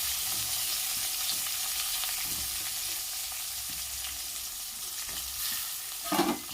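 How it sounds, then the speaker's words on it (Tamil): Onions sautéing in hot oil with mustard seeds for okra tamarind curry, a steady close sizzle with soft stirring scrapes and a brief louder burst of spatter near the end, no voices. "வெங்காயத்தை நல்லா வதக்கிக்கலாங்க"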